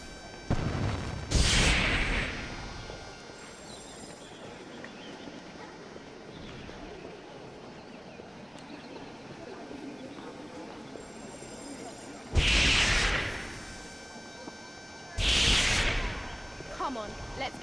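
Fire spell bursts cast in the Harry Potter and the Order of the Phoenix video game: a loud whooshing blast at the start, then a quiet stretch, then two more sharp flaring bursts close together near the end.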